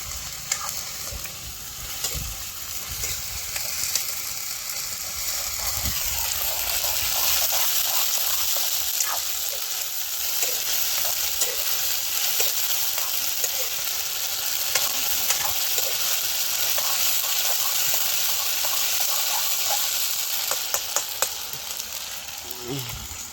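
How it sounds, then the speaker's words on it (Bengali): Food frying and sizzling in a pan with ginger-garlic paste, a steady crackling hiss with occasional stirring scrapes, close and continuous for the whole stretch without talk. "এবার এইটাকে একটু ভালো করে ভেজে নিতে হবে।"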